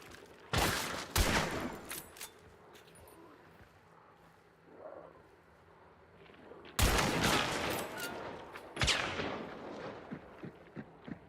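Video-game gunfire cracks out in loud bursts, one volley early and another longer barrage later, with a quieter gap between them.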